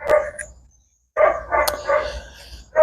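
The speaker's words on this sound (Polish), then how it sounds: "Nie mogę nagrywać, bo pieski szczekają" Small dogs barking nearby, a bark, a brief silence, then a burst of several quick overlapping barks and yips.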